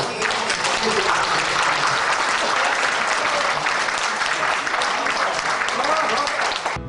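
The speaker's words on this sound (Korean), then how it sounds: "우리 모두 한번 박수" An audience at a Korean community gathering bursts into applause, a dense, loud, continuous clapping that holds steady for several seconds, with faint voices underneath.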